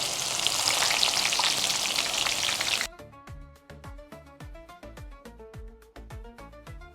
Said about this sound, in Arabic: عندنا بصل شرايح وعندنا كمان فلفل هنحطهم